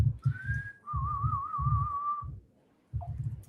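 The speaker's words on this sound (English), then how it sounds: "so this is my favorite song to whistle." A person whistles a melody up close, a rising note then a long wavering tone with vibrato, over a low rhythmic thumping backing beat, with a short pause before a final note.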